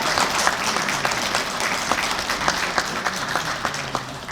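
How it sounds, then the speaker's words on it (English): A large crowd at the 2017 Saviors' Day gathering applauds steadily, dense, loud clapping with a few sharper claps standing out, sustained across the whole moment. "Let's give the Lifeline participants another round of applause"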